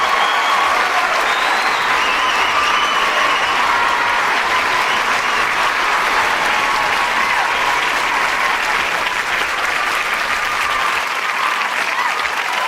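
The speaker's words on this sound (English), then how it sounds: "I'll give him a round of applause" Thick, unbroken applause from a large crowd roars at a steady, loud level throughout, with no pauses or voices rising above the clapping.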